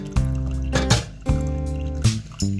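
Liquid poured from a container inside a minivan camper conversion, glugging in four or five distinct gurgling bursts, close and fairly loud, with no talking.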